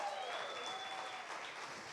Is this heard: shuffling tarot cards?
no